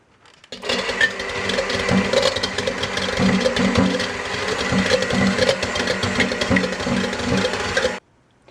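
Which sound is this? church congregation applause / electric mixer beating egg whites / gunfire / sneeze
electric mixer beating egg whites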